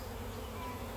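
Honeybees drone in a dense, continuous buzz at an opened hive while its brood frames are disturbed, a close and unbroken swarm hum.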